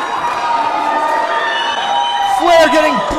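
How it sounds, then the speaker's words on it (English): Wrestling arena crowd roaring during a torture rack hold, a loud sustained cheer that swells near the end, with excited commentary running over it. "This crowd is going crazy!"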